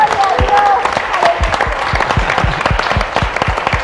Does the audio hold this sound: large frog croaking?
no